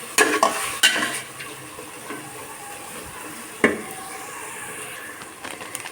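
Ginger, garlic and nut pastes fry with onion and biryani spices in a pan, a soft steady sizzle broken by a few sharp scrapes and clanks of a spoon against the pot.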